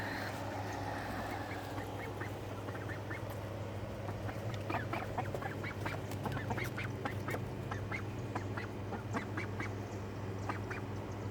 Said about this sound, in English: You guys want to see the ducks?